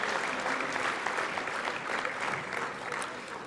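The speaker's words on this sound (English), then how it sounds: "a round of applause for the graduates from the Heating, Refrigeration, and Air Conditioning Technician program" Steady, dense applause from a large crowd at a college convocation ceremony for graduating heating, refrigeration and air conditioning technicians, sustained at even volume throughout.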